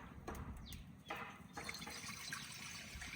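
Water poured into a cooking pot for boiling potatoes in a village kitchen, a continuous splashing fill with a few sharper splashes, close and steady, with no talk.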